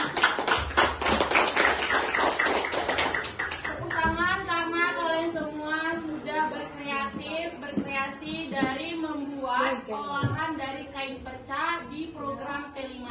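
Children clap their hands together in a school project gathering, a dense burst of quick claps for a few seconds, after which someone speaks over quieter scattered taps.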